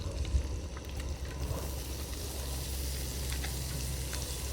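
Onion frying in a pan at a solo overnight camp in the rain, a steady close sizzle running throughout with a few soft stirring scrapes and no talk.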